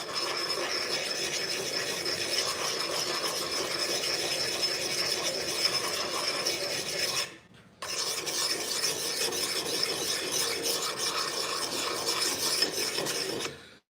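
A double-bit axe edge is worked with long, steady, raspy filing strokes, heard close and alone, with a brief pause partway through before the rasping resumes.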